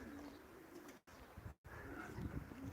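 Pigeons coo outdoors, quiet and somewhat distant, in soft low repeated calls against faint wind. Two brief dropouts break the sound.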